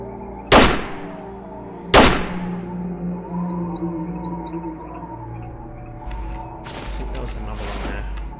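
Gunshots in the S.T.A.L.K.E.R. video game: two sharp, loud single shots about a second and a half apart, then a heavier burst of shots later, over a low ambient hum with faint bird-like chirps.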